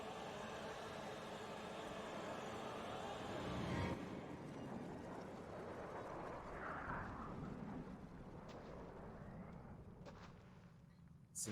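A low, broad rumble of an airplane passing overhead in Metro Last Light, steady and fairly faint, swelling slightly before easing off, with no talking.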